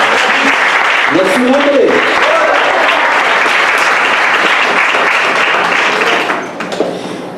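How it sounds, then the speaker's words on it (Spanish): A church congregation claps their hands in sustained, dense applause, loud and close, while someone speaks briefly over the clapping before it thins out at the end. "¿Cuánto le da palmas al Señor?"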